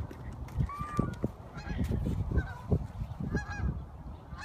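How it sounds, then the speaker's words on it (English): A flock of geese honking repeatedly in the distance, their calls overlapping over a rustling outdoor background. "Geese. Honk, honk."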